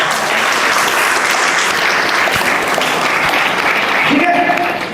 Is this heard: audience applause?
yes